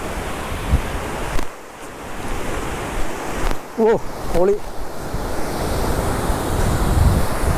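Water rushes steadily below Ashokavanam bridge in Idukki, Kerala, a constant broad roar mixed with wind noise, with a brief exclamation from a man partway through.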